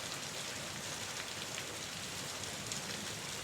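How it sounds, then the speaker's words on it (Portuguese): Steady rain falls in a continuous, even hiss with a dense patter of drops on surfaces, quiet and unbroken throughout with no voices or other sounds. "Se você está gostando dessa atmosfera sombria ao som da chuva"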